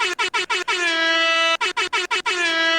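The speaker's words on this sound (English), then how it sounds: "Play the air horns." An air horn sound effect blasting in loud rhythmic bursts: a rapid string of short staccato honks, one long sustained blare, then another quick series of honks and a final held tone, close and alone.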